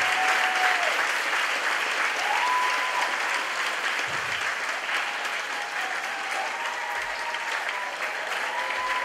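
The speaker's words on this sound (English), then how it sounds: "Give yourselves a round of applause." An audience at a 4-H state opening ceremony applauds steadily for about nine seconds: a thick, even wash of many hands clapping at moderate volume, with faint tonal notes drifting underneath.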